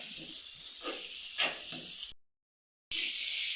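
Garlic, ginger and garam masala sizzle in a hot pan for chicken curry, a steady close hiss that cuts out abruptly for under a second before resuming just as loud.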